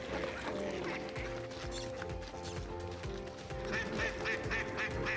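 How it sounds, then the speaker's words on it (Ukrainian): Ducks on a city park lake quack repeatedly in overlapping calls from a flock, fairly near, over a busy outdoor background. "В озері парку Глоби живуть сотні качок."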